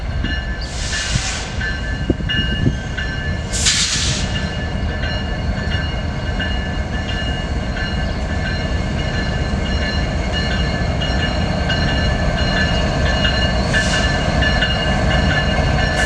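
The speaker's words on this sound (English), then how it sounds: "we see an awesome sight as a westbound coal drag approaches" A westbound coal train hauled by EMD SD70ACE locomotives rumbles steadily and loudly nearby, with a few brief high horn-like bursts over the continuous rolling noise.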